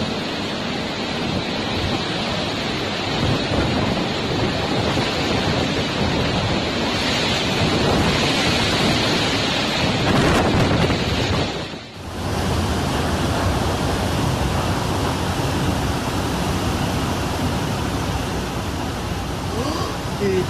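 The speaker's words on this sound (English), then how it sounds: "Violent winds and blinding rain turned this scene into pure chaos as trees bent dangerously under the force of the storm." Violent storm winds with blinding rain lashing down hard enough to bend trees, a dense, loud, continuous roar that dips briefly before surging back.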